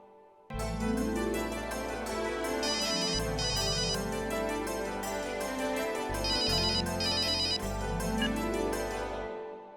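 A telephone rings with a loud electronic ringtone, a repeating melodic pattern of bright tones over a synthesized backing, continuous for several seconds and ending abruptly, with no voices.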